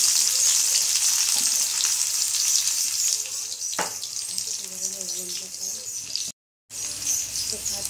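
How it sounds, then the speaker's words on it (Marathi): Chopped garlic dropped into hot oil for a home-style fish thali, giving a steady close sizzle and crackle that runs throughout, with a brief sharp clatter partway and a short dead gap near the end. "आता तेल तापलंय. हा लसूण मी टाकणार."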